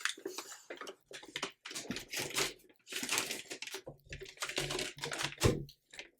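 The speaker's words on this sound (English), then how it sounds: "Now I'm pressing enter to get it up to the 50 seconds and enter again to make it start counting down." Enter buttons on a tumbler heat press timer being pressed repeatedly, a quick run of clicky, close-up presses in uneven bursts with short pauses between them, heard alone without talk.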